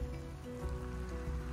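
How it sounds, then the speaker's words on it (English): Rain falls steadily under a sunny sky outdoors, a dense continuous patter with a low steady hum beneath it and no talking. "Okay, it is like really raining over there."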